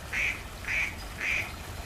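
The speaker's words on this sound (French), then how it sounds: "Là vivaient des canards sauvages." Three distinct wild duck quacks at a steady rhythm, fairly close, over a low background rumble, by a marsh.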